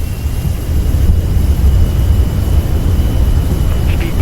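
A 737 in Microsoft Flight Simulator 2024 roars on the runway with jet engine reverse thrust after landing, a loud, steady, broadband rumble heavy in the low end that holds for the whole stretch.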